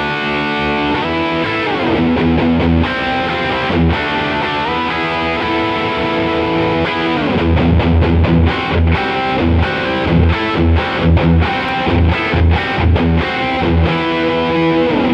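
A Diezel Herbert guitar amplifier roars with heavily distorted metal tones, playing sustained chords and then chugging palm-muted riffs with sharp rhythmic stops, loud and close with no voices.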